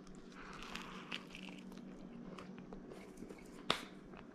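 A bite into a crunchy-crusted breakfast of chorizo, runny egg and melted cheese gives one sharp crunch near the end, faint and close against quiet room tone.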